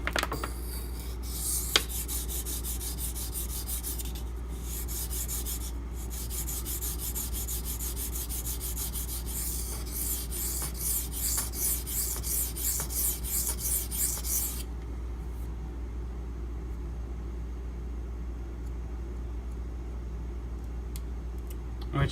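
A knife is sharpened on a whetstone, a steady rhythmic scraping rasp of repeated strokes close by that runs for about fifteen seconds, then stops, leaving a low background hum.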